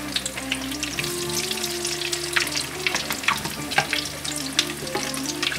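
Southern salmon croquettes frying in hot oil, a continuous crackling sizzle with scattered pops and spits at close range.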